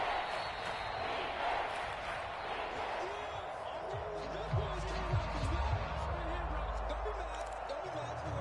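A stadium crowd in a PS4 American football video game roars steadily and loudly as the defense takes the field, with a swelling wall of cheering under occasional game sounds.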